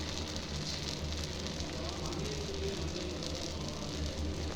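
Dosa batter sizzling on a hot pan, a steady close crackling hiss that holds evenly throughout at moderate loudness, with no talking.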